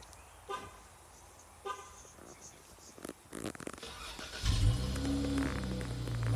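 Quiet clicks and rustles, then a 2011 Chrysler 300 Limited engine cranks by push-button start and fires into a deep, rumbling exhaust idle that holds loudly to the end.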